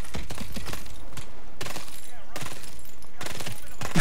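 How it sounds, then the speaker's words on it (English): Heavy gunfire in the Call of Duty: Advanced Warfare campaign, including turret fire, coming in dense repeated bursts of shots with brief gaps, loud and close throughout. "I'm still being shot very, very heavily here."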